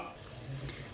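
Turnip and spinach are stirred in a sizzling pan, a close, scraping swirl over a continuous frying hiss for about a second.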